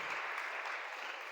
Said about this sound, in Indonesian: Boleh tepuk tangan buat kakak kita yang udah bicara.